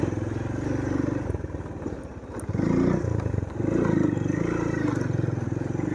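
A motorbike climbs a hill road toward Kotli Sattian, its engine droning steadily and loudly up close, with a brief dip in the middle before the throttle picks up again.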